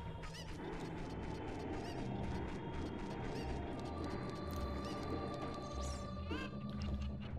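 Chickens cluck and squawk repeatedly in Zelda: Ocarina of Time, a dense run of bird calls over steady in-game background sound with no talking.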